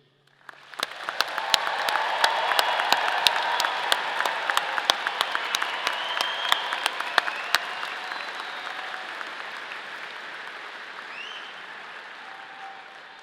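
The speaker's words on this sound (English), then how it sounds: "Please join me in a round of applause in congratulating these students on this happy occasion." Commencement audience applauds engineering graduates in a large hall, a broad sustained roar of clapping with frequent sharp nearby claps, swelling quickly and then slowly tapering over about thirteen seconds.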